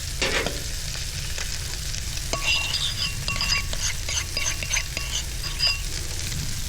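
Trout frying in a pan beside a small creek, a steady sizzle with light clinks and scraping stirs at close range, no voices.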